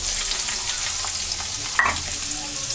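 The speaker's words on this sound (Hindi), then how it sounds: "इसमें प्याज दे के भून रही" Onion sizzling in very hot oil in a pan with salt, a steady broadband frying hiss throughout with a few sharper pops and spatula scrapes near the middle, close and fairly loud, no voices.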